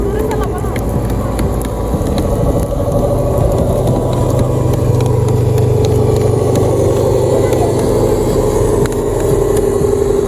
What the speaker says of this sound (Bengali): চলেন আমাদের বলবো ইঞ্জিনের গর্জন শুনে আসি